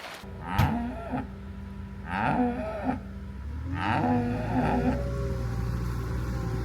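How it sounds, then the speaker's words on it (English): Cows moo several times in long, low drawn-out calls, close by, over a constant low rumble of background noise. "I can hear them mooing as I'm putting the feed in the bucket."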